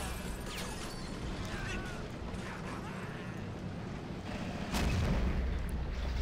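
Tank and artillery fire rumbles through a Men of War Assault Squad 2 battle with T23 and M6 heavy tanks, a constant booming din of distant shots and mechanical clatter, swelling louder near the end.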